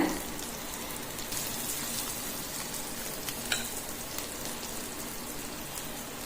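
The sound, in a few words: chicken frying in oil in a pan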